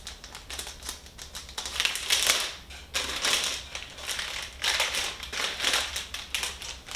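Amazon Fire HD 8 Kids Edition tablet being unwrapped from thin plastic wrap, close crinkling and crackling in irregular bursts lasting several seconds, with no talking.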